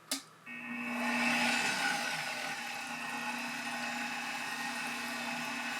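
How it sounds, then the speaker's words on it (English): A Cuisinart stand mixer kneads pizza dough with a dough hook at its lowest speed: a brief click, then a steady, close motor whir with a gentle grinding drone that runs without pause and without voices. "Now speed number 1 on the Cuisinart mixer is a little bit slower than the one on the KitchenAid."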